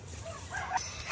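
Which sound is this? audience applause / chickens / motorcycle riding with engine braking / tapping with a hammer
chickens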